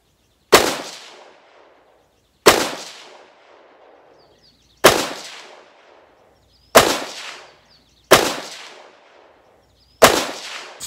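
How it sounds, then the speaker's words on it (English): Springfield Saint Edge ATC Elite rifle firing five loud, sharp shots at a range, evenly spaced about two seconds apart, each crack decaying quickly into silence. "Five shots in one hole."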